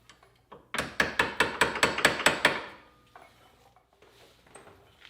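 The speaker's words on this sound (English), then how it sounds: "You could tap on it with a hammer like I was just doing until it's fully seated" A hammer taps a wheel stud into the hub of a Polaris Sportsman ATV, giving about nine quick, sharp metallic strikes in an even rhythm, then quiet with faint handling noises.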